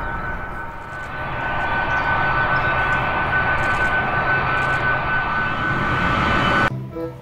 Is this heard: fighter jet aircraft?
yes